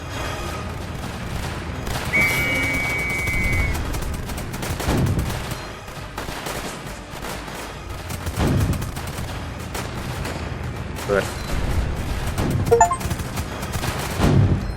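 Dense bursts of machine gun fire and explosions rattle continuously in the Northend Tower Defense video game, a busy battlefield barrage with repeated booms and small interface chimes, no talking.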